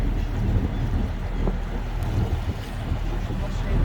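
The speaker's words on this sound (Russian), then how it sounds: "Мы на катере." Motorboat cruising on the Bosphorus in Turkey, a steady low engine drone under rushing wind and water noise, continuous and fairly loud.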